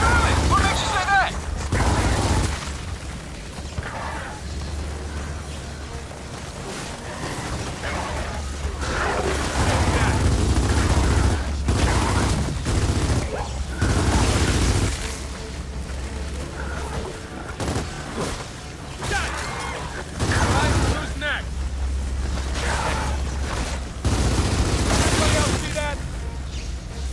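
Covering gunfire in the Gears of War 4 video game pops in bursts and heavy booms across a long stretch, mixed with voices talking over the battle noise.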